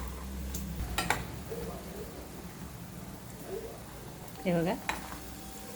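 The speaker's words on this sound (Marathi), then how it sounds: "आता थोडं तळू देते त्यांना" Corn tikki patties fry in oil in a pan, giving a soft, steady sizzle with a few clinks and scrapes, while a person speaks briefly over it.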